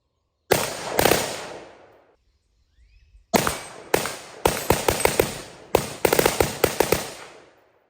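A Triarc TSR 15 rifle fires in loud close bursts at a range, first two shots, a pause, then quick bump-fired strings of rapid cracks with ringing decay between clusters.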